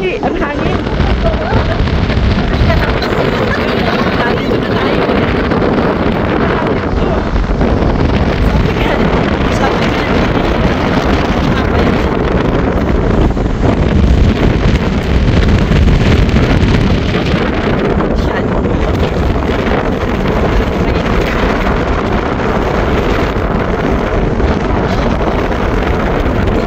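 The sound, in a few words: strong wind on mountain glacier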